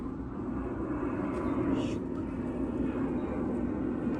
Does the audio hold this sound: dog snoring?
no